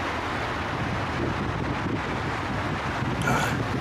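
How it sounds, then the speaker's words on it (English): Constant wind rumbling and buffeting against the microphone, loud and unbroken throughout, with no one speaking. "Sounds very windy."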